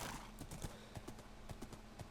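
A Minecraft horse trots with quick, crisp clip-clop hoofbeats in a steady rhythm, fairly faint and with no other sounds.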